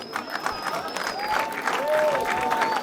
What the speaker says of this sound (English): you have a bunch of white folks up front clapping for David Lucas and reinforcing him for making a George Floyd joke